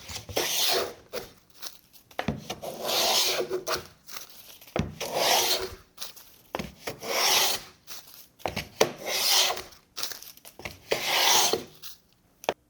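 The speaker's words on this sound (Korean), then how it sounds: "당기는 대패질을 할 때는 플레이닝 스탑을 미는 쪽이 아닌 당기는 쪽에 구멍을 뚫어서 이렇게 설치를 하시고, 재패질 하시면 되겠습니다" Pull-stroke hand planing of a wooden board on a workbench fitted with a planing stop, about six rhythmic rasping shavings strokes separated by short pauses, close and clear with no talk.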